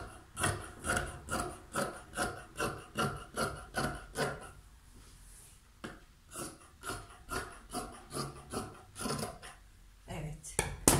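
Scissors cutting fabric for the back raglan piece of a tunic make a rhythmic series of close, crisp snipping crunches, one every half second or so, with a brief pause midway.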